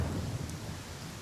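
Video game thunderstorm in Pathfinder: Kingmaker, with a steady wash of rain over a low, rolling thunder rumble, fairly quiet and constant throughout.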